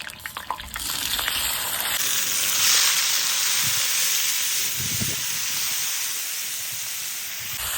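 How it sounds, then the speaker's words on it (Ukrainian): Potatoes frying in a pan outdoors give a loud, steady sizzle and hiss that swells after a rattle of handling at the start, with a few low thumps partway through. "Друзі, будемо жарити бараболю"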